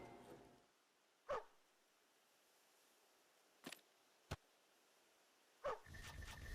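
Dog barking in the Stormgate real-time strategy game, a few short separate barks spaced over several seconds, faint against a quiet background with no talk.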